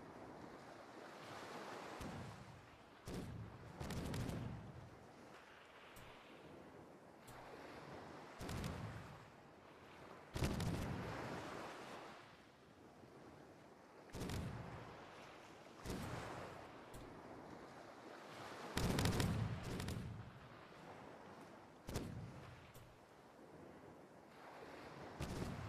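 Ship cannons fire in the sailing game Caribbean!, sounding as a dozen or so heavy booming blasts at irregular intervals over a constant wash of waves and wind.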